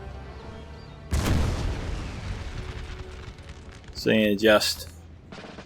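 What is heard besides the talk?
artillery and gunfire in video game Napoleon Total War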